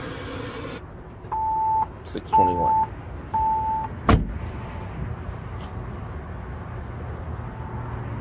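A Kicker Key smart amplifier installed in a Jeep Wrangler Unlimited gives three evenly spaced steady beeps, each about half a second, near and clear over a quiet idling-engine background, followed by a sharp click; a brief spoken number is heard.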